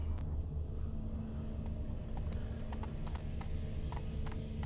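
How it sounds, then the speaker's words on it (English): Horse hooves clip-clopping at a quick, steady pace in The Witcher 3 video game, a continuous rhythmic beat of hoofbeats over a low ambient bed, with no voices. "Run, Roach. Not so fast, Roach."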